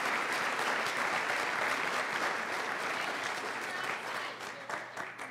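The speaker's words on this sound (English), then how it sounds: "I'd like for all of us to give them a round of applause." Audience applause at a workshop, a steady roar of many hands clapping from a fairly distant crowd, easing slightly toward the end.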